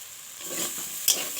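Cumin powder being stirred into a curry frying in oil, a steady soft sizzle with a few scraping strokes and one sharp clink of the spoon against the pan near the end.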